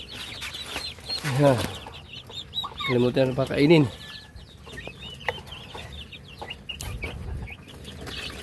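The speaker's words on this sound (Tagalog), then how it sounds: "Ito guys, manok to guys." Chickens, including Rhode Island Reds, clucking in bursts close by in a farmyard among chicks, with a person speaking briefly over them.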